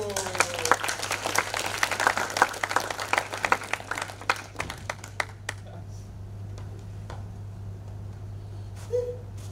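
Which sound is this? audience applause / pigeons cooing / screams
audience applause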